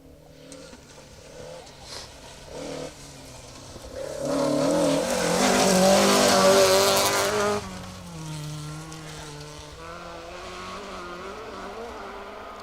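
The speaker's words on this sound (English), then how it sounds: "then the rally cars break the peace and quiet, and it goes from being lovely and peaceful to lovely and noisy" A Ford Escort rally car on a 2WD stage of the Woodpecker Stages Rally approaches from a distance, roars loudly past with revving and gear changes, then fades away as its engine note drops.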